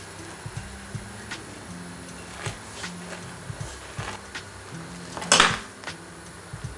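A freshly baked giga burger being cut on a board, with scattered knife and cutlery clinks and soft taps, then one louder scraping crunch as the blade goes through, close and fairly quiet under a faint steady hum.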